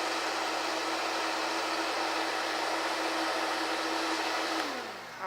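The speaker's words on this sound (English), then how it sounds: "Want to blend that up to make sure those garlics get nice and blended up." A blender purees garlic with a steady, loud, high-pitched motor whine that holds constant, then drops in pitch and winds down at the end.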